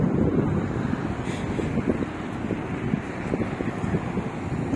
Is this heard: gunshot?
no